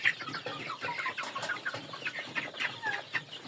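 Native hens on a farm cluck and chatter close by in a busy overlapping flock, short bursts of calls repeating throughout with no talking.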